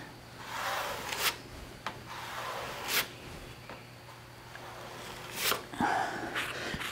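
Spatula wiping body filler hard into pinholes on a rough truck body: faint scraping rubs across the panel, with several sharper swipes standing out over a low steady hum, no talking.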